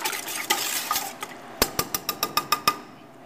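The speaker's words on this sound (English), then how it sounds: "Let's stir this up and see what we got." A spoon stirs a thick, spiced Hit Me Fred sauce in bulk, scraping first in a soft irregular swirl, then in about nine sharp, evenly spaced clinks against the pot, close and clear with no voices.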